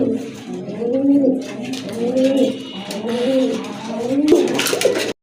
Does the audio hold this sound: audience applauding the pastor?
no